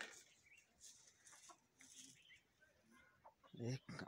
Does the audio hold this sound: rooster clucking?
yes